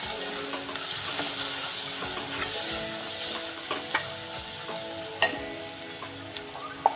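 Spoon stirring hing, garam masala and turmeric in a sizzling frying pan for a Maharashtrian radish and dried fish dish, steady frying hiss with scattered scraping clicks and a few sharper knocks near the end.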